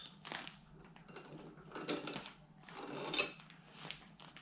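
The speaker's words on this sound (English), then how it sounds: "So we'll just get some soil into these pots." Soil scooped into small plastic bonsai pots, close gritty scraping and rattling in several uneven bursts with light clatter from the pots.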